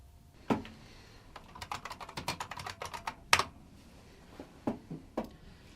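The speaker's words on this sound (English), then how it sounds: "She's just typing on a computer." Someone types on a computer keyboard in a quiet room, bursts of quick, light key clicks with short pauses, faint and close, no talk.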